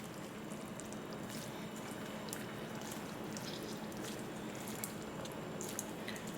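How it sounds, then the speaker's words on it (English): Water is pressed out of crumbled food being prepared for a vegan breakfast burrito, giving faint, steady wet squishing with soft drips and trickles over quiet background hiss. "I'm gonna press the water out"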